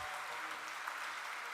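A crowd at an award ceremony honoring Padma Shri Dr. Pramod Kale applauds in a brief, even burst of dense clapping.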